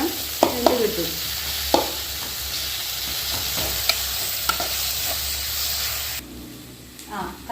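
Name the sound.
stirring chicken curry frying in a pan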